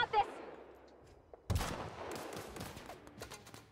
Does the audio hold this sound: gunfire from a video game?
yes